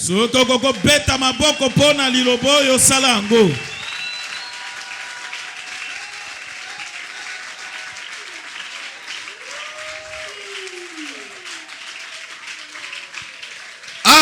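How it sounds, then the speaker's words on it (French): A church congregation at a Sunday service bursts into loud, dense applause and cheering for about three seconds, then it drops to a low murmur of the room. "S'il y a moyen d'acclamer pour cette parole, faites-le."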